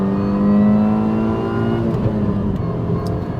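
Supercharged Mini Cooper S accelerating, its steady engine drone carrying a rising supercharger whine, loud and close throughout with no talking.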